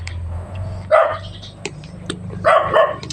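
A dog barks a few times in short bursts, fairly close, with quiet pauses and a low hum between the barks.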